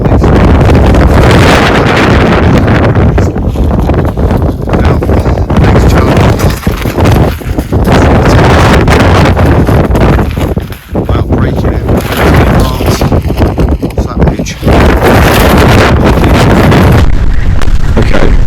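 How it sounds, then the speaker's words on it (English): Strong, relentless wind buffets an MSR Hubba NX tent, roaring and flapping loudly and continuously with heavy rumbling gusts that overwhelm everything, close against the fabric with no letup across the whole stretch. "Another hour's passed, the wind's getting even worse."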